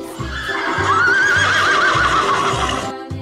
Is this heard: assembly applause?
no